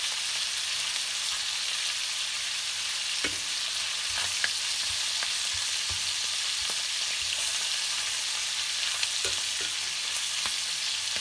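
Pieces of beef tenderloin sear in hot butter in a pan, giving a steady bright sizzle that runs for about eleven seconds. Occasional soft clinks and pops break through the sizzle, and no one speaks.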